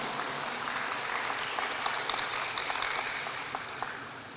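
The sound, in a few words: audience applause for nurses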